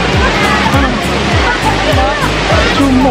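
Jumog waterfall roars as a steady, loud wash of falling water close by after heavy rain. Someone talks over it throughout.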